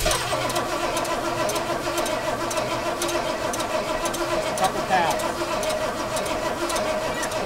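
Ford Bronco engine cranking and catching, a steady mechanical churn with a brief rise near the middle as it fires, close by, with people talking over the running motor.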